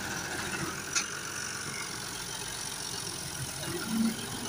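A tractor engine idles and rumbles steadily at a muddy farm where the tractor is stuck, a low continuous drone with a brief metallic click and a slight swell in revving near the end.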